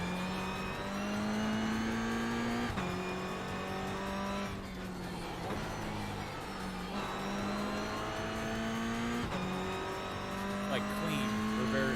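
Race car engine from the iRacing sim racing game, a steady droning tone that rises and drops with gear shifts, continuous and fairly loud, with voices talking over it.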